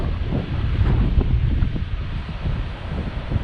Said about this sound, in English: And since then, the wind's picked up.